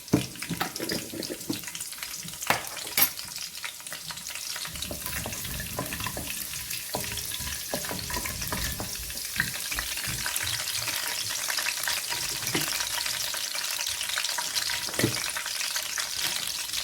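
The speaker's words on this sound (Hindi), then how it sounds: "आधी चम्मच हम इसमें राई दाना डाल देंगे। ये राई दाना डाल दिया हमने।" Mustard seeds sizzling in hot oil in a pan for stuffed masala eggplant, giving a continuous hissing crackle with occasional clinks and a watery, tap-like wash in the background.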